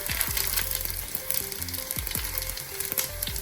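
Dried red chillies and spices sizzle in hot oil for a roasted-coconut sambar, an Onam sadhya dish. A steady close-up crackle runs throughout, with repeated clinks and scrapes of stirring.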